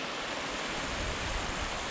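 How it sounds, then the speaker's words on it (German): A small waterfall along a muddy mountain hiking trail on the Nagelfluhkette ridge gives a steady, close, broadband rush of falling water with no pauses. "Ein kleiner Wasserfall."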